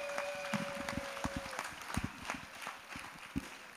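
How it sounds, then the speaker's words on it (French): A church congregation claps together for Jesus during an evangelical service, a dense run of hand claps with sharp individual slaps standing out, a sustained tone fading early on. "Let's clap for Jesus."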